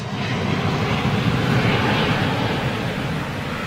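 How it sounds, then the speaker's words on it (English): A large jet airliner being pushed back from a remote stand to the gate at Manchester Airport, heard as a steady, moderately loud engine roar and rumble from some distance, with no talking. "it's being pushed back from remote to gate"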